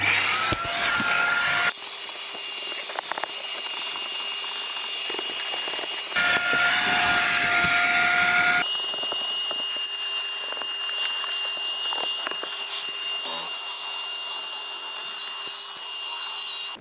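A vacuum cleaner drones loudly and continuously while cleaning an Audi Q2 S-Line car, its whining pitch shifting a few times as it moves across surfaces.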